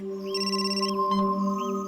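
A phone rings in a police office, a sustained electronic ringtone with layered tones and a short warbling chirp, close and alone.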